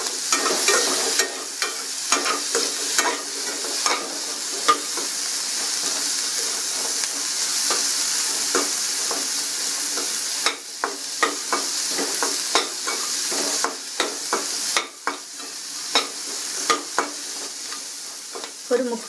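Onions frying and being stirred in a pan for Tamil kara chutney, a steady loud sizzle with repeated scraping stirs throughout, no talking.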